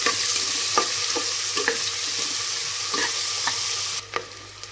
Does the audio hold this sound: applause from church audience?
no